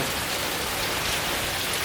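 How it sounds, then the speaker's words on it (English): Heavy rain pours down during a strong storm at an old Italian house, a dense, steady hiss that fills the whole moment without any break. "And it is raining pretty bad"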